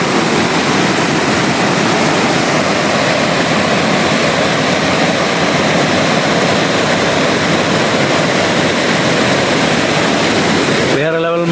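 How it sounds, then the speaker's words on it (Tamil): A fast-flowing stream on the way from Gobichettipalayam to Athani, a loud, unbroken rushing roar of water heard close up throughout. "இங்கே பாருங்கள் தண்ணி எப்படி போயிட்டுருக்குன்னு."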